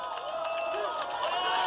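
Crowd of supporters cheering for Oh Se-hoon, a steady mass of overlapping voices and shouts with scattered claps, fairly close and continuous throughout.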